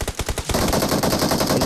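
Dense automatic gunfire in the battle royale game BGMI during a hot-drop fight, with a few separate shots at first and then a sustained, loud rattle of rapid bursts.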